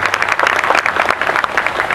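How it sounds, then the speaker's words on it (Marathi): An audience at a Buddhist religious gathering breaks into steady, loud applause, a dense wash of many hands clapping at once that holds evenly throughout. "टाळ्या वाजवा"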